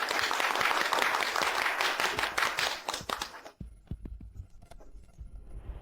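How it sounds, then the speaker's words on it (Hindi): A crowd applauds to welcome the president of a city medical association, dense clapping that stops abruptly partway through, leaving a few scattered claps and taps. "तालियों के साथ स्वागत कीजिए डोंगशान सिटी मेडिकल एसोसिएशन के प्रेसिडेंट लू का।"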